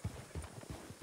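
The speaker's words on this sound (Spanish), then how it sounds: "He visto los caballos que hay aquí en el arbusto" Horse hooves clip-clop at a steady trotting rhythm in the western role-play game RedM, a series of soft, muffled, low thuds that sound quiet and somewhat distant, with no voices.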